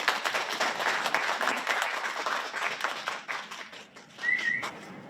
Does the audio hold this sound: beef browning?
no